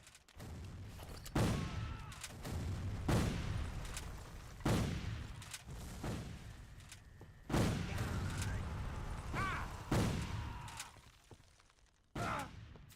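Cannon fire in a Civil War strategy video game, a series of heavy booming shots spaced a second or two apart, each with a long rumbling decay, loud and close with faint game ambience between.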